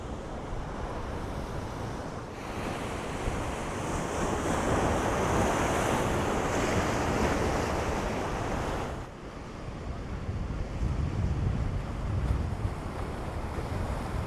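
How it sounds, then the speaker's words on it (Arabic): Strong sea waves crash and wash continuously along the Alexandria shore in Egypt, loud and close, with steady gusty wind buffeting the microphone and no talk. "اليوم الموج كلش قوي مثل ما شايفين، والهواء شويه بارد"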